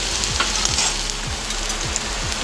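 Flattened rice (poha) frying with cardamom and cloves in a pan until light brown, a loud, steady sizzle with regular scraping strokes of stirring.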